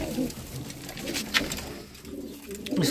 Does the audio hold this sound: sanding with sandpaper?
no